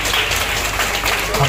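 A gathering applauds to welcome an official, Mane Saheb, visiting an ashram to inspect its building work: a brief burst of dense clapping from many hands, mixed with voices.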